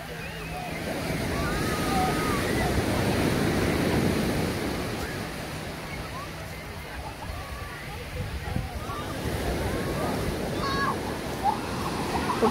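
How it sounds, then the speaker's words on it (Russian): Sea waves break on a fine-sand beach with no breakwaters at Adler, Sochi, surging in and washing out in a broad rolling rush, with wind buffeting the microphone and faint voices nearby. "И волна разливается по-другому."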